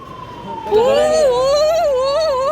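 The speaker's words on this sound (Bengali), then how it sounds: "পুলিশের গাড়ি আসছে রে ভাই" A police car siren wails up and rises into a steady undulating tone, loud and approaching on a street, with faint background noise.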